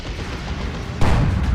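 Tank cannon fire in the Warhammer 40k strategy game Dawn of War 2, heard as dense rumbling battle booms with a heavier blast landing midway through.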